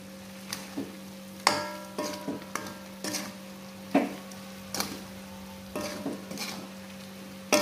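A spoon stirs fried potatoes for sambal goreng in a pan, giving soft irregular scrapes and taps over a faint steady sizzle.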